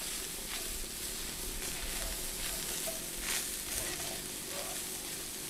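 Chili, salt and pepper spice mix roasting briefly in a hot pan, a soft steady sizzle and fry with faint stirring scrapes, close and low in level.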